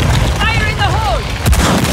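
A grenade goes off in the video game Second Extinction with a single loud boom near the end, following a voice over dense in-game noise.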